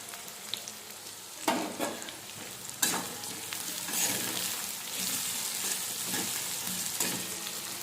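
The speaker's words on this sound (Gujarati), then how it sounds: "હવે આને આપણે ઝીણા સમારેલા ટામેટા નાખીએ." Finely chopped tomatoes tipped into a hot frying pan for a Gujarati mixed vegetable curry, giving a loud, steady sizzle with bursts of spatula stirring and scraping, close up with no talk.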